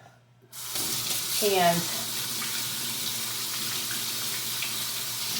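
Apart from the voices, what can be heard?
washing hands under a running kitchen tap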